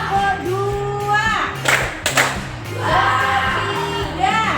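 A classroom of pupils claps a counted rhythm, two quick sharp claps in unison, amid children's voices and an adult talking.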